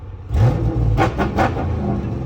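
Dodge Hellcat and SRT cars with hoods off rev their engines nearby, a loud deep rumble punctuated by two or three sharp throttle blips in quick succession.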